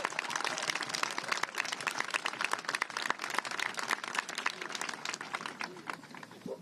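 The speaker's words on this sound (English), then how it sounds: "Can we give a round of applause for the folks who supported that effort in the Washington state legislature?" A crowd at a pro-choice rally claps and applauds, a dense patter of many hands that stays lively throughout and thins slightly toward the end.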